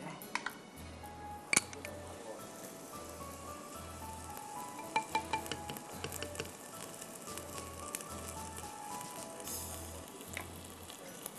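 Ginger garlic paste goes into onions frying in a pan, giving a steady faint sizzle with occasional clinks of a utensil while someone speaks throughout.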